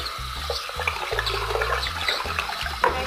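Tap water pours steadily into a betta fish tank to fill and rinse it, making a close, continuous rushing and splashing sound.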